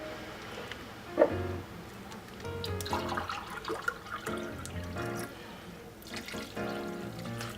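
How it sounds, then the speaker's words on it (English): Two cups of water pour and splash into a container in a couple of uneven bursts, moderately close, with nobody talking. "you need to add 2 cups of"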